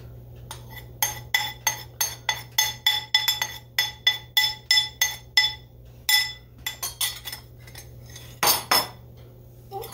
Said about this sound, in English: So I'm going to go ahead and spoon this in.